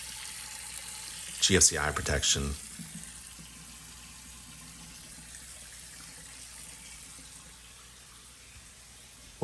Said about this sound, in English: Got the hot water going.